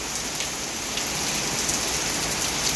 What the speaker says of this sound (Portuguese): Chuva, chuva com vento, gente.